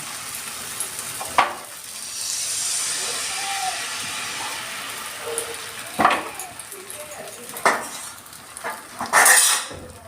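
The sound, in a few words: spoon spreading pitha batter around in an oiled pan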